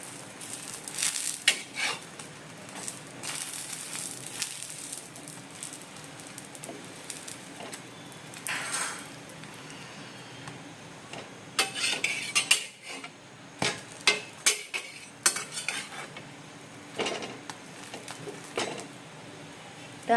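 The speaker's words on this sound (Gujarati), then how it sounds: "આ રીતના બધી દાબેલી શેકી લઈએ ધીમે ધીમે તાપે" Dabeli buns roasting slowly in a pan over a low flame in a home kitchen. Soft background sizzle is broken by repeated clinks and scrapes of a utensil against the pan, heard close and at moderate loudness.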